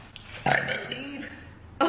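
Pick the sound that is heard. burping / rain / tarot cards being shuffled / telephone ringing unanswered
burping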